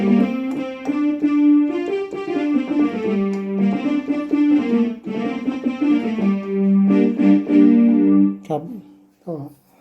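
A Yamaha keyboard plays a bright, sustained melody with chords, steady and fairly loud, breaking off near the end with a few short notes.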